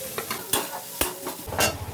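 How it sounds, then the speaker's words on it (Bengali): Chopped onion and garlic sizzle in a hot pan, with repeated scraping stirs at an uneven rhythm, close and fairly loud. "পেঁয়াজ রসুন মোটামুটি ভাজা হয়ে গেছে"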